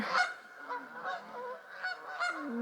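Geese honking on a lake in New Zealand, a dense flock calling in overlapping, irregular honks that rise and fall continuously, fairly close and loud, with no talk over them.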